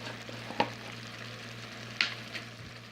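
Chicken cheese steak with onions fries in a pan as a steady close sizzle over a low hum, broken by two sharp clacks of a utensil against the pan and a softer tap near the end.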